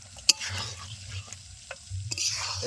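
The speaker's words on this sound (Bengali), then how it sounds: "আমরা একটুখানি কষিয়ে নিয়ে তারপর জল দিয়ে দেবো" Cauliflower curry stir-fried in a pan at a riverside cooking setting, a loud sizzle with a sharp spatula clack near the start and a few scraping strokes over a short stretch, close by and without talk.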